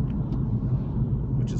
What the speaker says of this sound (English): I drive a BMW i3. It's an electric car. That's why it sounds so good.